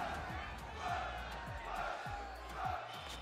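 A boxing arena crowd roars in Fight Night Round 3, a steady swelling din that peaks in surges, with commentators talking over it.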